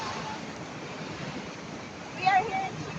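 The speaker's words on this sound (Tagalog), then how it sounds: "Ay, ang ganda ng alon." Ocean waves washing on a beach under steady wind noise, a soft continuous surf wash with one brief swell near the end.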